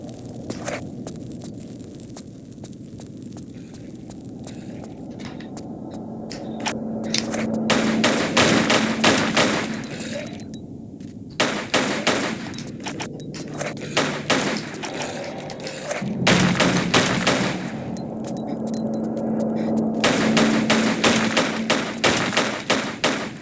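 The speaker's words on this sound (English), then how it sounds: "when you're trying to shoot the vases, you'll also aim at the mummies" Gunfire in the Tomb Raider level editor game, with bursts of shots repeating across the stretch alongside thuds and footsteps, moderately loud over a steady game background.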